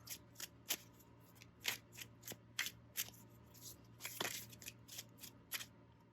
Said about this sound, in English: So with the shuffling, I definitely prefer the mass market edition in terms of like it's very glidey